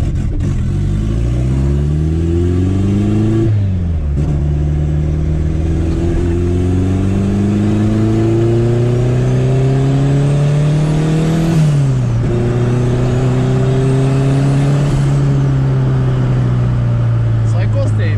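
Chevrolet Chevette with a turbo engine revving hard in traffic, loud and close, with repeated climbing revs that drop back sharply between pulls, set up with pops and bangs tuning.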